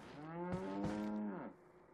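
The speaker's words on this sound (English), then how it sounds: "That was a cow." A cow moos once inside the Resident Evil 4 video game, a long, loud, close-up lowing call that holds steady for over a second before cutting off, with only quiet background after it.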